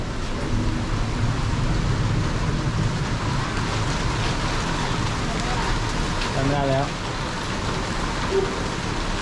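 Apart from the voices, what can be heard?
rain falling at a night market in Penang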